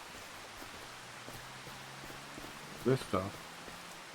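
Steady hiss of falling rain in the farming game Farming Simulator 25 runs evenly throughout, with a voice briefly speaking over it near the end.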